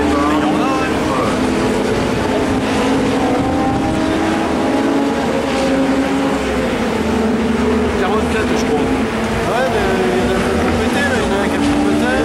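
A race car accelerates at the Magny-Cours circuit during a Legends Cars Cup race, its engine droning loudly and steadily throughout, with commentary running over it.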